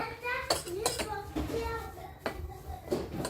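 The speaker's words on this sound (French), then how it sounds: "Et on mélange tout ça." Ingredients and oil being stirred together in a bowl, with a utensil scraping and clinking against the sides in irregular strokes, close by and moderately loud.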